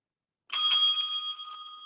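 A timekeeper at a debate strikes a bell once, a bright, clear ring that starts sharply and slowly fades in a quiet room.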